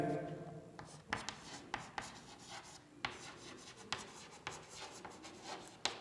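Chalk or marker scratching out an equation on a classroom board during a lesson on resistors and current, a run of short rasping strokes with brief pauses between them, close and moderately quiet.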